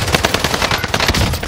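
Rapid automatic gunfire from a battle royale video game match, with enemies shooting from a headquarters building: loud, dense, continuous bursts filling the whole moment.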